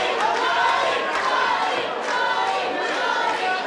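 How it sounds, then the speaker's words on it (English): Crowd at a World Class Fight League pro women's fight roaring steadily and cheering on a fighter, a loud continuous wash of voices with rising shouts and no clear pauses. "You hear the crowd getting behind their girl right now."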